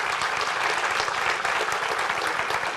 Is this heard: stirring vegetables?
no